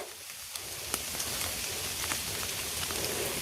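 Steady rain falling, a dense even patter with scattered sharper drops, close and continuous with no voices.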